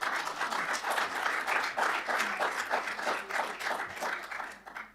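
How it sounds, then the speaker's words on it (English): People in a council committee room applaud, a sustained, moderately loud round of clapping picked up through a nearby microphone that fades out at the end. "I hope you heard the round of applause through my mic from the people in the room."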